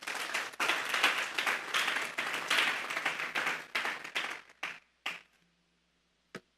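A church congregation claps together in sustained, lively applause, the clapping thinning into a few scattered claps and then near silence with one last clap at the end.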